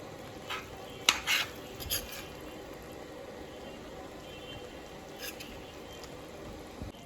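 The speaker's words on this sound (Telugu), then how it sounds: "మనమైతే మంచిగా మిక్స్ చేయాలి కొంచెం స్లోగా మిక్స్ చేయాలి" Egg biryani being stirred slowly in a pot: a few soft spoon clinks against the metal near the start, then quiet, steady scraping and shuffling of rice at low volume.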